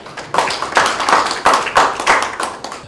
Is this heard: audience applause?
yes